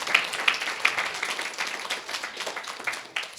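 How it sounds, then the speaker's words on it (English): An audience bursts into applause, a dense patter of many hands clapping that starts loudly and gradually fades over a few seconds. "please clap"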